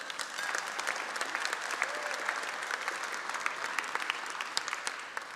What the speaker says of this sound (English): It's worth applause. You can applaud for that.